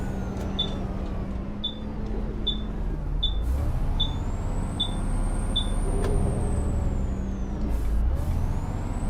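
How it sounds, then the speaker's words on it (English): Air brakes on a Volvo B7TL ALX400 or Enviro 400 double-decker bus in the OMSI 2 bus simulator game, with a series of short beeps and engine hum beneath a rising hiss of released air. "The brakes in this sound strange. It sounds like opening up a valve when I press the brakes."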